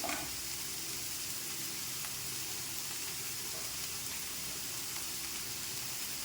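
Onion, dried red chillies and garlic sautéing in a pan for coriander chutney, giving a steady, dense frying hiss that stays even throughout, with no voices.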